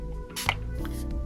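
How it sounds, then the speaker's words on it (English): A few short bursts of Revolution setting spray misted onto a face during a makeup base routine, the hiss brief and close over a steady low background hum. "I spray a little bit, like a little bit of setting"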